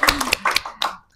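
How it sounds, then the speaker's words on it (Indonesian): A few podcast hosts in a studio give a short burst of hand claps: four or five sharp, close claps in quick succession, then silence. "Beri tepuk tangan dulu ya."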